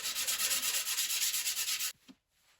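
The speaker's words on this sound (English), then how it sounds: "I think this is 60 grit sandpaper" Coarse 60 grit sandpaper rubs rapidly back and forth across wood in close, steady rhythmic strokes for about two seconds, then stops, leaving a couple of faint taps.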